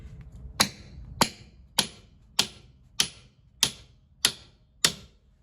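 A sledgehammer strikes a plywood pallet eight times in an even, steady rhythm, each sharp close crack ringing briefly and decaying before the next blow.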